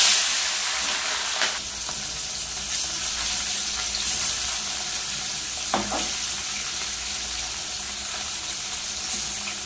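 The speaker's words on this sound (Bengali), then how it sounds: "ট্যাংরা মাছগুলো এবার ভেজে নেব" Tangra fish rubbed with salt and turmeric fry in hot oil, producing a loud, steady, close sizzle with a few sharper pops and crackles standing out.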